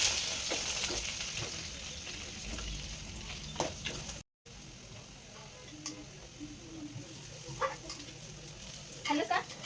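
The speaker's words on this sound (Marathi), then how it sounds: "मी तो भात फ्राय करणार आहे सकाळचा भात आहे स्वतः फ्राय करून घेते" Leftover morning rice frying in a pan in a home kitchen, a soft steady sizzle with scattered ticks and scrapes of stirring, one brief dropout midway, and faint voices in the background.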